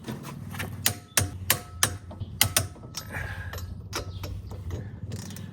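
Lug nuts on a trailer wheel with a Dexter axle are tightened with a ratcheting tool, giving a series of sharp, close clicks and metallic knocks in an uneven rhythm, with no talking.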